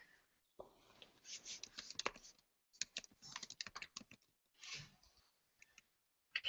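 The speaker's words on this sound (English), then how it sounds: "I can hear typing." A computer keyboard is typed on in quick clustered bursts of close, crisp key clicks, separated by brief pauses of near silence, with no talking.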